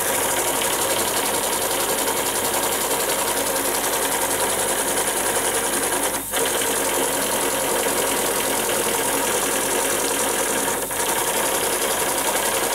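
A small JMC 3 cm3 live steam engine with Stephenson valve gear runs steadily after repair, giving a continuous fast mechanical chuffing and whirring hum, close and fairly loud, with two brief dips in the middle.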